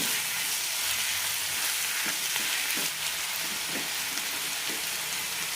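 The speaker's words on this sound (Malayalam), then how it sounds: "ഇനി ഇതിലേക്ക് തക്കാളി ഇടാം മൂന്ന് തക്കാളിയാണ് എടുത്തിരിക്കുന്നത് നന്നായി വഴറ്റാം" Three tomatoes sautéing in a pan, giving a dense, even hiss of frying that holds steady throughout, with a few soft stirring knocks underneath.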